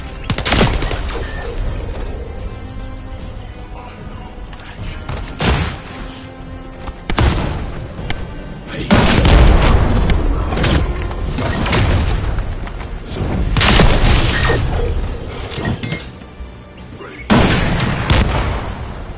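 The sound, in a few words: precision bomb exploding in video game The First Descendant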